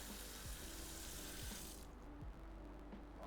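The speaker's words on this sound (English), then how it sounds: "I have the sink on to run water." A kitchen sink tap runs in a continuous, steady rush of water, a quiet even hiss with faint low clunks underneath.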